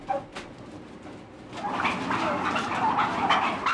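Turkeys crowded in a UK farm shed make a dense, continuous clamour of gobbles and calls that swells and grows louder partway through.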